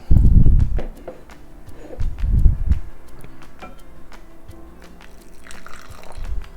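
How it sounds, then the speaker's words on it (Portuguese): Water is added to gluten-free pizza dough in a bowl, giving short close splashing and sloshing bursts separated by quieter handling noise and small clicks. "E agora eu vou entrar com um pouco de água."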